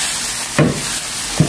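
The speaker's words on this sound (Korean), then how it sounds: "같이 넣고 볶아줍니다." Squid, shrimp and scallops are stir-fried with vegetables in a pan. A steady loud sizzle runs throughout, broken by two brief scraping stir strokes, with no talking.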